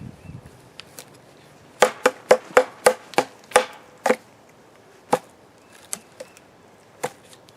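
A Bear Forest Huntsman Seax knife stabs repeatedly into an old piece of seasoned cedar, giving a quick run of sharp, close thuds followed by slower, sparser impacts.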